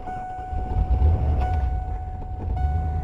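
An old Ford van engine turning over and catching, a steady low rumble rising and holding close by, with no speech.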